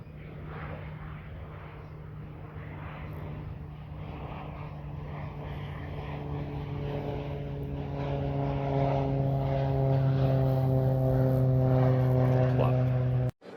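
Starstreak E36/F1S electric freeflight model airplane flying, its propeller whine swelling gradually louder and rising in pitch as it approaches, with voices talking underneath before the sound cuts off.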